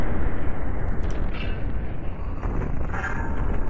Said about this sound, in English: there's already explosions